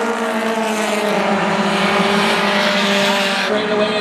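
Stock cars racing on a short oval track, a loud sustained engine roar with rising and falling harmonic whine as the pack passes close by, ending with a slight drop in pitch.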